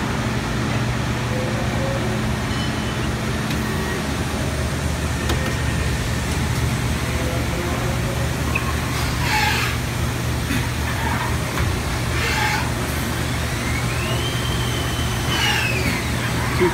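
Haas DS-30 CNC lathe running a machining cycle: a steady, loud motor and coolant hum with spindle whine that rises in pitch partway through, heard without speech.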